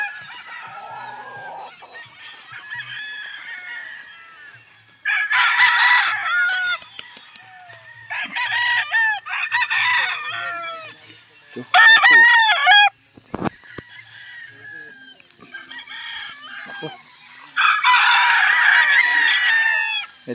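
Several gamefowl roosters crow in bursts at a banded local breeding yard, with overlapping cock-a-doodle-doo calls from nearby and farther birds, some clucking between them and no talking.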